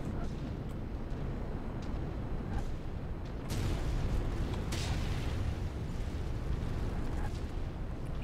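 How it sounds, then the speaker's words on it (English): Enemy weapons fire in MechWarrior 5 booms and bursts over a constant roaring rumble of battle, with sharper blasts standing out now and then through the steady din. "Yeah, they're shooting at me."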